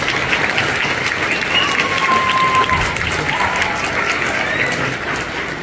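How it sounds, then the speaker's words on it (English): Audience at a middle school orchestra spring concert applauds loudly and continuously, a broad wash of clapping with crowd noise that eases slightly near the end. "let's give it one more round of applause"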